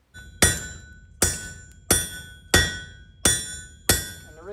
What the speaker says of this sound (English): But I'm doing it with just one cross peen hammer.